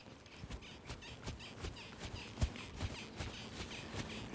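A horse walking with steady, evenly spaced clip-clop hoofbeats, close by and moderately quiet, a regular rhythm of roughly two to three steps per second with no talking.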